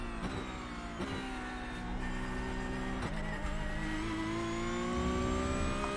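A Porsche Cup race car in iRacing at Sebring holds a steady, loud, high engine drone as it laps, with brief gear-change dips. Other cars are faintly audible and nobody talks.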